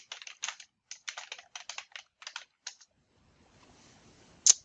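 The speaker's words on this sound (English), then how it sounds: "Again, I'll type in my name." Bursts of fast typing on a computer keyboard while a name is entered into Python code, with short pauses between flurries of key clicks, a quiet stretch, then one sharp louder click at the end.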